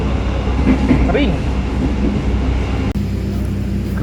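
The Kamandaka train pulls into Krupuk station with a loud, steady rumble of wheels and carriage noise close by, a brief squeal rising partway through, and a sudden knock before the rumble carries on.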